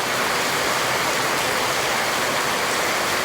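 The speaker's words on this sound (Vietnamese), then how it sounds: "khi trời đã mưa," Steady rainfall outdoors, a dense, even hiss of falling water that stays constant and close throughout, with no voices.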